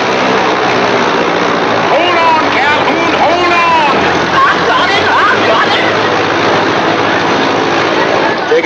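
A 1955 airplane's propeller engine starts up into a loud, steady drone that fills the scene, with excited voices calling out over the continuous mechanical roar.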